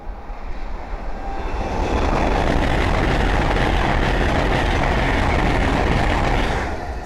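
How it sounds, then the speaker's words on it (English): A Hull Trains Class 800 bound from London King's Cross to Inverness passes on the East Coast Main Line at Langford, a loud broad rushing roar that builds quickly and holds steady before easing slightly at the end. "the next train to pass by is a Hull Train 800 going from London King's Cross to Inverness"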